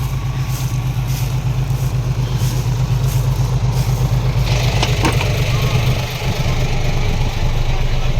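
A motorcycle engine idles loud and close in a steady low rumble, dipping briefly near the end and then carrying on.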